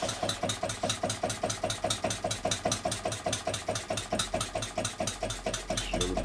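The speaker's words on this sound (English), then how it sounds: "Time to start the engine." A small horizontal model diesel engine chugs steadily with rapid, regular knocking beats, running evenly at close range without pause.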